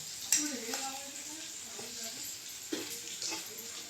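Hot tempering with chana poured over a bowl of poha, giving a brief crackling sizzle and hiss with a few sharp spoon and bowl clinks as it is stirred in, close and moderately loud.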